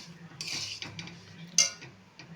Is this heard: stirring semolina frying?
yes